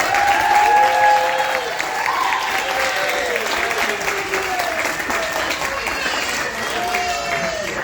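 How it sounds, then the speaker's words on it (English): Audience applause at a student showcase performance, a sustained crowd of clapping with a few voices and whistle-like tones rising over it, steady for several seconds. "Give them a nice round of applause."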